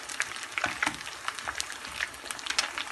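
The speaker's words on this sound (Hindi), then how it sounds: "फिश जल्दी गल जाती है, तो इसलिए इसको हम तेज़ आंच पे फ्राई कर रहे हैं।" Fish sizzling hard in hot oil over high heat, a dense continuous crackle dotted with sharp pops, close and steady, with no talk over it.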